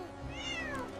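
A kitten in a kids' cartoon gives a single short rising-then-falling meow, clear and close, over a soft musical background.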